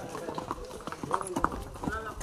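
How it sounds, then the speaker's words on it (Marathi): Horses on the paths of Matheran hill station, tired-looking and tall, clop their hooves in scattered, uneven steps close by while a person talks over them throughout. "किती सारे घोडे तिकडे बघा आपल्या आजूबाजूलाच आहेत"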